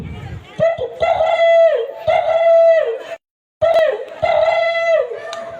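A man imitates a dove's call with his voice, making two loud, close bursts of hooting, cooing tones separated by a short silence.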